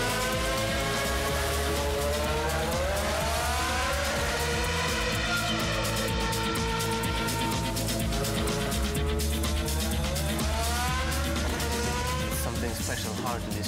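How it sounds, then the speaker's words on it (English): A loud, continuous race car engine roars throughout, its pitch sweeping up and down with gear changes, while a voice talks over it. "You hear the engine, you hear the gear shifts"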